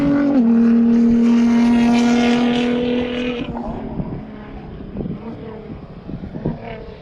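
A race car at Eagles Canyon finishing its first lap roars past close and loud with a steady engine note, then its pitch drops and the sound fades into the distance.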